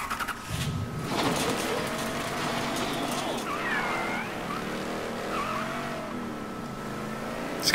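An old, noisy junker car drives in the video game Mafia 3, its engine droning and revving continuously with tire squeals and skids rising over the steady roar, with no talking.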